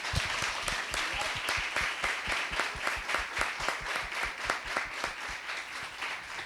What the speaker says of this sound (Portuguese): E eu queria até uma salva de palmas